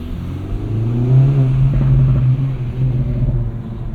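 A 2024 Acura Integra Type S pulls hard through first and second gear, its engine giving a steady, fairly loud mid-low drone that swells early and holds throughout, with no talking.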